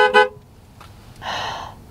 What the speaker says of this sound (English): Are you honking?